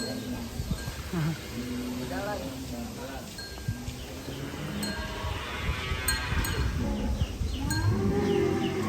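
Cattle, including very large cows, moo and low around a busy outdoor cattle farm, with people talking, wind buffeting and rustling throughout.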